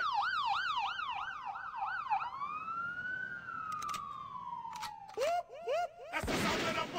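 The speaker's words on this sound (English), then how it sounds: "That's the sound of the police." A police siren wails in fast up-and-down sweeps, then slides into a long falling tone before short yelps return, loud and fairly close, ending in a burst of broadband noise.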